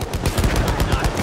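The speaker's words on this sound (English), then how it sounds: "Machine gun right there." Battlefield 1 machine gun hammering away in rapid, dense bursts during a multiplayer operations match at Fao Fortress, loud and close with no pause across the short stretch.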